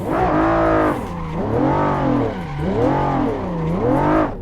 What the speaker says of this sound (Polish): Na drifcik.